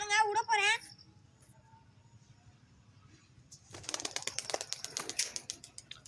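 Homing pigeons released from a loft take off together, a burst of rapid wing flaps and clatter that rises suddenly and continues after a brief cooing call and a long quiet stretch with low background hum.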